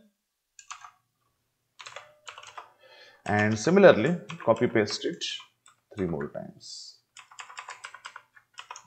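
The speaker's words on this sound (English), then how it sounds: "I use a mechanical keyboard" Keys click and clack on a mechanical keyboard in quick bursts while a person talks over the typing.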